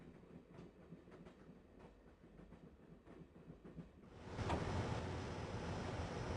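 A train rolls along in a classic point-and-click adventure game, its wheels giving a rhythmic clatter, before a loud surge of rushing rumble and wind noise swells in and holds steady.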